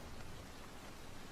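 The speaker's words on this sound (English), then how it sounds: "I'm using as background because I like the sound of rain." Recorded rain plays as a steady, even hiss of falling drops, a soft wash of sound with no talking over it.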